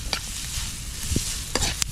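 Food sautéing in a frying pan during a catch-and-cook meal of freshly caught fish: a steady, close hiss of sizzling oil, broken by a few sharp clinks and scrapes of a utensil stirring.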